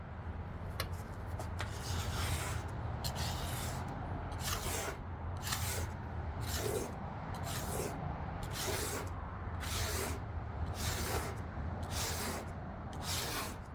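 A steel blade scraper rasps across the stripped roof of a classic car, lifting loose material in a steady series of about a dozen rhythmic strokes, each a dry scratchy burst, close and fairly quiet.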